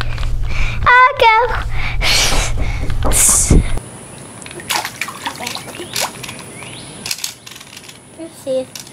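A toy mermaid doll swims in a small pool with sloshing, splashing and trickling water, mixed with bursts of speech and a short sung or squeaky phrase, then quieter drips and dribbles toward the end.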